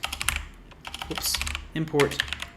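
Keys on a computer keyboard clatter in quick, irregular bursts of close taps, fairly quiet, with no talking over them.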